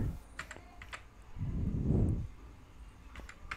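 Typing on a computer keyboard, a few scattered, faint key clicks spread out over a low rumbling background noise that swells in the middle, with no talking.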